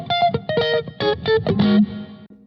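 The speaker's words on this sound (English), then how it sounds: "the actual guitar part sounds like this" Funky electric guitar part played through effects: short choppy stabs and ninth-chord hits in a tight rhythm, loud and close, ending on a held note.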